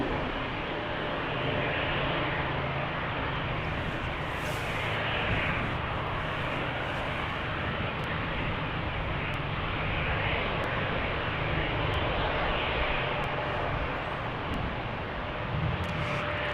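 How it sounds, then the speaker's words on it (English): An Airbus A321 airliner departing Salt Lake City Airport, a loud, sustained roar of jet engines that holds steady throughout with no talking. "Departure right there, that A321"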